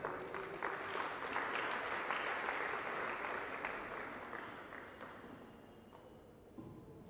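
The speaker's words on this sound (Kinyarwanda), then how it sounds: "ariyo Justin Abiri, nawe ndasabye gukomera amashyi." Sustained applause from an audience at an official launch event, steady and full at first, then gradually thinning and fading toward the end.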